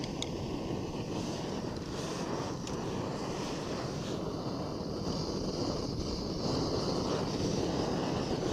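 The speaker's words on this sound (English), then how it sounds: "it's quite windy" Constant wind buffeting the microphone on the coast at sunrise, a dense roaring rush that stays loud and unbroken, with no voices.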